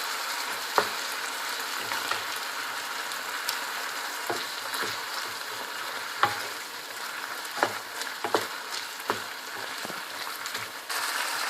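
Chicken frying in a pan with its own rendered fat and freshly added red chillies, a steady close sizzle broken by sharp clinks and scrapes of stirring.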